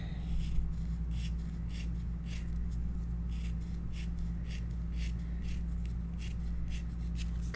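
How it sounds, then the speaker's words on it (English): Paper scissors snip through fabric in a steady series of soft, crisp cuts over a constant low hum. "cutting fabric with paper scissors is not fun usually"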